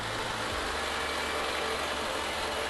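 A motorcycle engine is restarted after an oil change and settles into a steady idle, a loud, continuous, even rumble that fills the whole clip.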